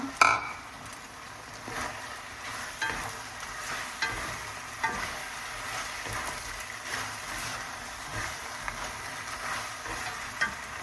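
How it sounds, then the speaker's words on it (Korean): Beef, shrimp and vegetables being stir-fried together in a pan, with a steady soft sizzle broken by scattered clinks and scrapes of a utensil against the pan. "아까 잘볶아놨은 야채를 가지고 이렇게 다시 이렇게 섞어요"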